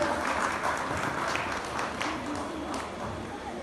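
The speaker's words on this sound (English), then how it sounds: "I would request our Honorable Trustee, Mr. Faiz Nizam, to felicitate him." Audience applause at the inauguration of the Asif Jah VI Nizam wardrobe exhibition in Purani Haveli, a steady wash of clapping throughout with some voices mixed in.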